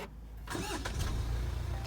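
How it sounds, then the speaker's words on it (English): A Range Rover Velar diesel engine is started with the push button, cranking briefly and then catching into a steady, low idle close by. "Diesel, sound of the diesel."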